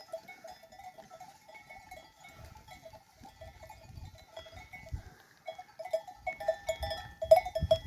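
Sheep and goats out on pasture, with steady tonal clanking of livestock bells ringing throughout and soft low rustling and movement sounds, growing busier and louder toward the end.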